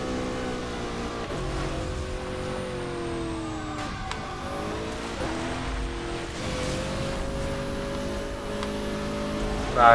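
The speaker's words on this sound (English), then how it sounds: "Using L2 to do the side drift." Car drifting sideways in Burnout Paradise Remastered on Xbox One X, a steady engine drone with sliding tire tones and shifting pitch, loud and continuous, ending in a sharp burst.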